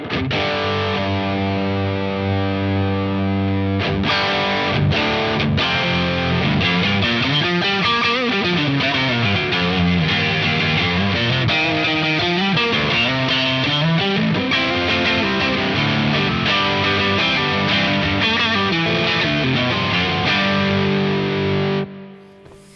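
Electric guitar through a Keeley El Rey Dorado overdrive pedal with tone at halfway, playing sustained gritty chords and bending riffs continuously for about twenty seconds before stopping.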